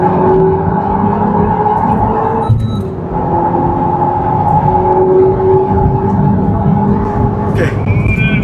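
A Renault Mégane RS accelerates on a race track with a steady, loud engine drone that dips briefly partway through and then climbs again. Short clicks and knocks from inside the cabin can be heard, and there may be faint speech.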